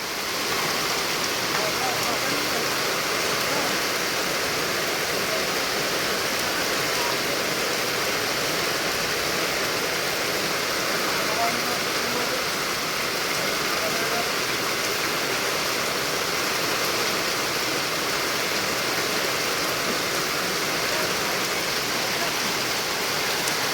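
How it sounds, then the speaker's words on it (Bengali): Heavy, continuous rain pours down in a village, a steady dense hiss that fills the whole stretch without letup, loud and close with no clear voices above it. "কি পরিমাণ বৃষ্টি হচ্ছে দেখতে পাচ্ছ, এক নাগাড়ে বন্ধ হওয়ার নাম নেয় না, ভালো পরিমাণ বৃষ্টি হচ্ছে।"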